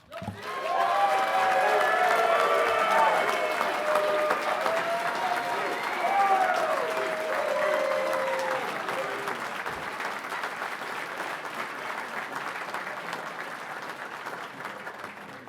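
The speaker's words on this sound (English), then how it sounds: "Please join me in a round of applause." Sustained applause from a banquet audience at an aviation awards ceremony, a dense wash of clapping that holds steady for over fifteen seconds, with faint voices mixed into the crowd noise.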